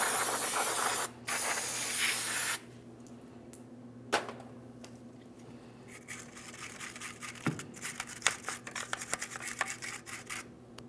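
Aerosol brake cleaner sprays in steady bursts onto the backing plate bearing seat of a 2003-2008 Toyota Matrix rear axle, loud and close, then gives way to quieter scrubbing and clatter.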